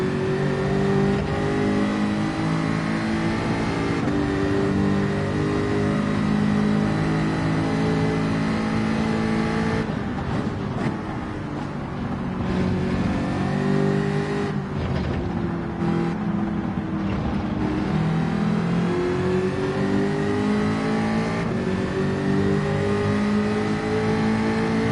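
A Gr.4 race car engine at Suzuka in Gran Turismo drones loud and continuous, its pitch rising and falling through gear changes and corners, with no talk.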